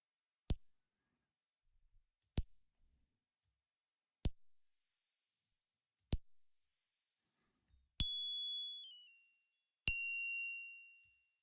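Six metallic, bell-like synth plucks from the Korg Gadget Zurich comb filter, set to maximum feedback, ring out one after another, each with a long resonant tail that grows more sustained and whistling as the sequence goes on.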